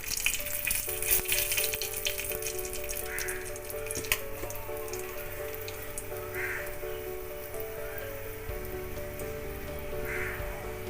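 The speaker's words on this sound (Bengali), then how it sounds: "সেই তেলেতে শুকনো লঙ্কা ফোড়ন দিয়ে দিলাম" Dried red chillies tempered in oil left over from frying morola fish and brinjal give a steady crackling sizzle, with faint distant caws and a low tonal hum behind it.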